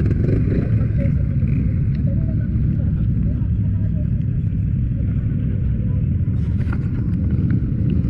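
A loud, rough CFMOTO CFORCE 450 4x4 ATV engine rumbles steadily up close with wind buffeting, and voices can be heard over it.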